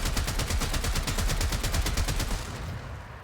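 Trumna heavy weapon in the game Warframe fired in a rapid, steady automatic burst of loud, close shots, then a brief tail as the firing stops near the end.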